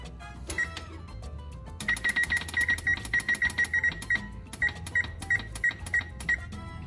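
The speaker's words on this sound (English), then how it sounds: "we're gonna set a timer." Kitchen timer being set, a rapid run of close, crisp electronic beeps and clicks, some in quick bursts and others spaced apart, over faint room noise.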